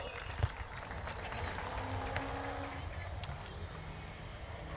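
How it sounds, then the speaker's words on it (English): Applause and crowd noise at a professional drifting event fill the air, a dense, moderately distant clatter of clapping with faint engine sound and voices mixed in. "round of applause for Pete Nielsen and Dwayne McKeever"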